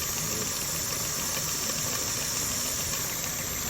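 A second-hand car's engine idles under inspection, a constant low rumble with a mechanical hum that holds steady and fairly loud throughout, and no voices over it.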